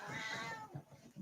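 A cat gives one short, faint meow at the start, and soft indoor rustling and thumps follow in a quiet room.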